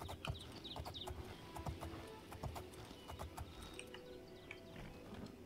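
Horse hooves clip-clop in a steady trotting rhythm in the video game Oblivion, faint and continuous over a low ambient bed, with no talking.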